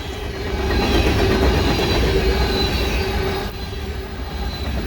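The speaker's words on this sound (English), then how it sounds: "This train is heading northbound" A long northbound freight train rumbles steadily past close by, loud and continuous, with rhythmic wheel clatter and a faint high squeal over the roar.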